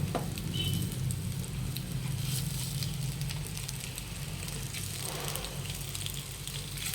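Corn cutlets (sweet corn tikki) shallow-frying in a little oil in a pan, giving a steady, continuous sizzle and crackle close by, moderately quiet and without any talk.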